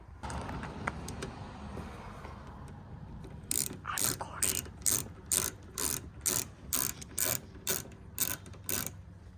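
A ratchet tightens a Torx bolt on a Toyota FJ, giving about a dozen sharp, evenly spaced clicking bursts after a few quiet seconds of faint background.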